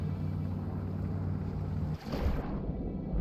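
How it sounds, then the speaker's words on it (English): A sailboat in the Stormworks game gives a steady rush of wind and water that shifts partway through into a rougher, splashier surge, with no voices over it. "let's get some wind and try to sail this thing"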